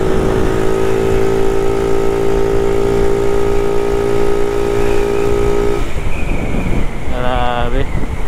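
Yamaha Mio Sporty scooter fitted with a Sun Racing CVT set pulls hard under steady acceleration, a loud, continuous droning engine tone with wind buffeting, then the note shifts abruptly near the end as a voice briefly cuts in.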